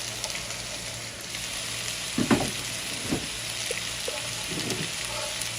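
Noodles, vegetables and spring onions for spicy shrimp lo mein stir-frying in a pan, a steady background sizzle broken by a few scraping stirs and soft clatters, moderately close with no talking.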